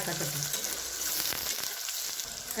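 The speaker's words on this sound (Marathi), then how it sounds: "कांदा आपला तळा हे बघा लाल दिसतो कांदा" Onion frying in a pan for batata pohe, a dense continuous close sizzle with a couple of faint stirring knocks.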